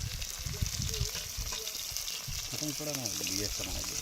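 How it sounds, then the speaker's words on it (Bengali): Fish fries on a boat on a river in the Sundarbans: a steady, soft sizzle and hiss of hot oil runs throughout, with a voice speaking briefly near the end. "এই সাইডের নৌকায় মাছ ভাজা চলছে"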